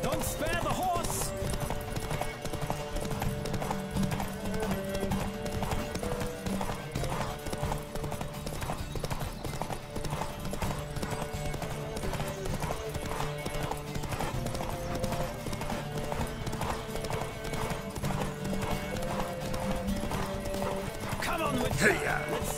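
Steady clip-clop of a horse's galloping hooves in The Witcher 3: Wild Hunt runs throughout over a continuous music bed, with a brief whinny near the end and occasional voices.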